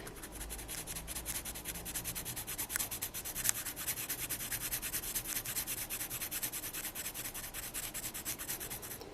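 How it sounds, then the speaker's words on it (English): A pen sketching in black ink scratches steadily across paper in quick repeated strokes, close and fairly quiet, with no voices. "as you can probably hear from the pen marks, kind of scratchy pen marks"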